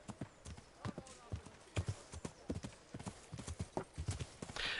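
Rapid clip-clop of horse hooves at a brisk trot in Kingdom Come: Deliverance, close and rhythmic, with a short whinny near the end.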